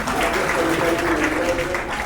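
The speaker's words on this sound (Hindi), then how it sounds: "ताली हो जाए सीनियर साथी के लिए" Clapping from a crowd of striking health workers at a Chhattisgarh health federation rally, a steady dense patter lasting about two seconds with voices mixed in.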